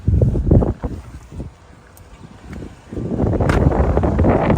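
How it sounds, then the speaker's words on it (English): Strong gusty wind buffets a microphone outdoors beside a 2024 Chevy Blazer rental, loud rumbling bursts that ease off mid-way, then return as a sustained heavy roar. "It's very windy today"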